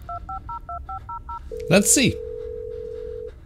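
Phone dialing voicemail in the Blair Witch game: a quick series of dual-tone keypad beeps, then a long steady tone, loud and close, with someone briefly talking over the middle.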